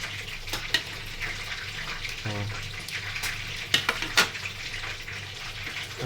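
Tilapia fish frying in cooking oil, a constant crackling sizzle with scattered louder pops and spatters, close by, with a brief low thump partway through and no clear speech.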